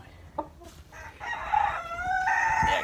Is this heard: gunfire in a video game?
no